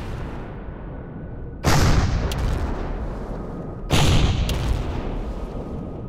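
Enemy rocket fire in the video game Empyrion, two heavy booming blasts a couple of seconds apart, each followed by a rumbling tail over a dull background hum.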